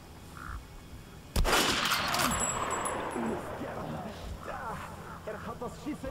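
Gunfire in the video game Metro: Last Light, a sudden loud burst followed by a sustained roar of shots and echoing clatter, with a voice speaking near the end.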